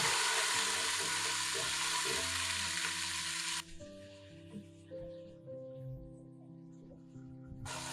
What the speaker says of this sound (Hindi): टमाटरों को नरम होने तक फ्राई करें।